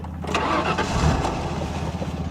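The V8 engine of a 1998 Ford Explorer cranks briefly, then catches and fires up, settling into a loud, throbbing rumble close by.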